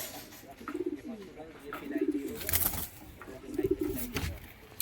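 Racing and kaldom pigeons coo in a loft in low, throaty bursts, several rounds in a few seconds, close by, with some rustling and background noise.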